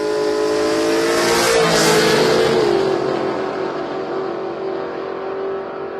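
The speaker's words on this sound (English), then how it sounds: "Oh, listen to those cars go." Drag racing cars accelerate hard at Willowbank Raceway during a drag-and-drive event, with a loud, sustained engine roar whose pitch climbs, drops and then holds as the cars pull away.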